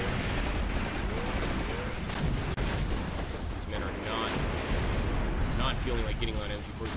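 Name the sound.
friendly artillery fire in the video game Graviteam Tactics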